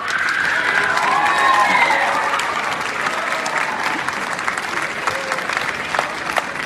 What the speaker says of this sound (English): Really, you should give yourselves a round of applause.